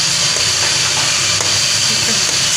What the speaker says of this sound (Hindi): प्याज मैंने डाल दिया घी में। अब ये हम डालेंगे लहसुन डालेंगे, इसको हम ब्राउन करेंगे।